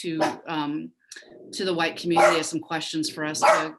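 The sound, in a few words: dog barking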